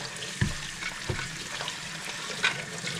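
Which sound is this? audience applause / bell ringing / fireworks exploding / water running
water running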